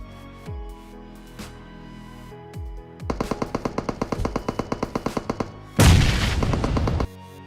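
In PUBG Mobile, a few sharp pops give way to a rapid string of loud gunfire bursts, followed by a heavy, booming grenade explosion that rumbles for over a second.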